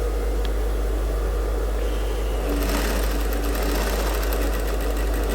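Sewing machine stitching a women's suit close to the notch, a steady droning whir under a constant low hum, growing brighter and busier partway through, close with no talking.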